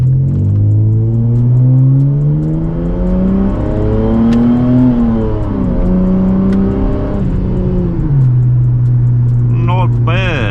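An AU Ford Falcon, 22 years old, accelerates hard in performance mode, its engine note climbing repeatedly and dropping at each gear change, loud and close from inside the cabin.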